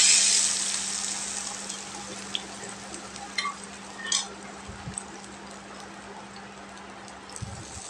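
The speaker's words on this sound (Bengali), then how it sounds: "জাস্ট একটু কষাই নিব।" Mustard paste sautéing with green chilies, ginger, garlic, turmeric, chili powder and coriander-cumin powder in a pan, a steady soft sizzle with a few light scraping clicks from stirring, no talk.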